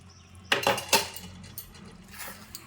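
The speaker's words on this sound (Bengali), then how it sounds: "একবার তলা অবধি নাড়াচাড়া করে নিচ্ছি" A spoon scrapes and clinks against a pot while stirring thick bottle gourd curry (lau ghonto), with two sharp metallic knocks near the start followed by softer scraping taps, close and fairly loud.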